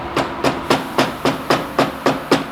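A hammer strikes a motorcycle shock absorber again and again, driving a tight rubber bushing into place, with eight sharp, evenly spaced metallic blows landing close and loud.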